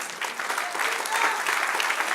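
Church congregation applauding during a Spanish-language worship service, a steady wash of clapping from many hands that holds at an even level throughout without pause.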